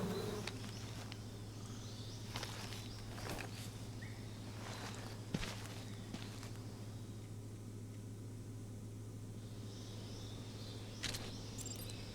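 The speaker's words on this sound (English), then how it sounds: "Oh, the beehive." Bees buzzing around a beehive in Metal Gear Solid Delta: Snake Eater, a faint steady drone under soft scattered clicks and footstep-like taps.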